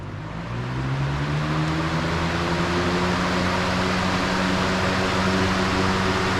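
A homemade HEPA air purifier fan is switched on, spinning up from quiet to a steady loud whooshing airflow with a rising motor hum whose tones climb and then settle into a constant drone.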